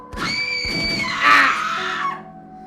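Piercing screams ring out in a horror video game called The Letter, a loud sustained shriek that rises and then trails off into a low fading tone.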